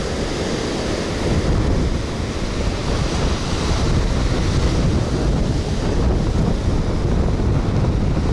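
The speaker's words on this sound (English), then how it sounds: "Man, that wind is picking up." Strong wind blows steadily across a Florida Gulf Coast beach, a loud, constant roar buffeting the microphone that blends with surf for the whole stretch, with no talk.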